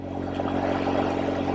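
Motorcycle engine and exhaust cruising around town at moderate speed, a loud steady drone heard up close with no talk.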